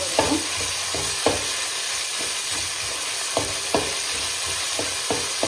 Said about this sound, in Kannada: ಶುಂಠಿ ಬೆಳ್ಳುಳ್ಳಿ ಪೇಸ್ಟ್ ಹಾಕಿದ್ಮೇಲೆ ಫ್ರೈ ಮಾಡ್ಕೊಳ್ಳಿ ಹಸಿ ವಾಸನೆ ಹೋಗೋವರೆಗೂ